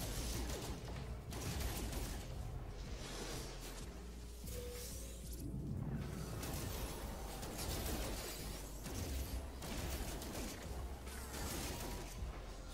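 Energy weapon fire from a bolt caster in No Man's Sky, rapid clustered bursts with whooshing, crackling hits over a dense, steady combat din throughout.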